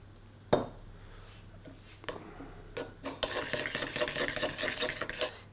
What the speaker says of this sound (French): je vais ensuite la mélanger au chocolat que j'ai cassé finement dans un petit bol